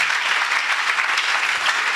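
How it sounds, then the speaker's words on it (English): A church congregation applauds together, a dense, steady clapping that fills the space for the whole stretch, with no voices standing out. "Give Jesus a clap of it."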